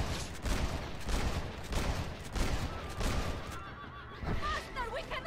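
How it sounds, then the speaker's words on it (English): Gunfire in a shootout in the Red Dead Redemption video game, repeated loud shots in irregular bursts with game sounds and faint voices underneath. "let's go shooting again. Shoot out."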